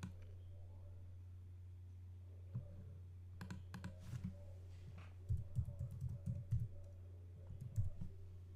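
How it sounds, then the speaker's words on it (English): A password typed on a computer keyboard during an online account login, with soft close key clicks coming in short irregular bursts over a quiet background hum. "We enter that password again"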